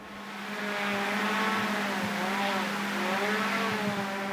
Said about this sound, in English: That's the sound of a drone making its descent into the prison.